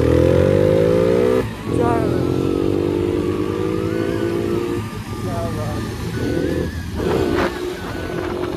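Motorcycles rev and ride off on a hilly road near Batote, Jammu, their engines loud and close with rising and falling pitch, while people talk over the noise.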